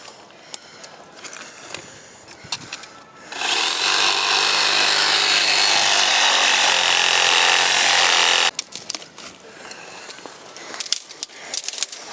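Power tool sawing through wood while trimming a rabbit-damaged plant, a loud steady whine lasting about five seconds, preceded and followed by quieter rustling and handling of branches.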